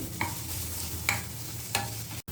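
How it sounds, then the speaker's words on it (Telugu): Ginger garlic paste fries in a pan for a dum aloo curry, giving a steady close hiss broken by three distinct spoon scrapes spaced roughly evenly apart. "అల్లం వెల్లిపాయ కూడా వేగిపోయింది కదా, మంచి స్మెల్ వస్తుంది."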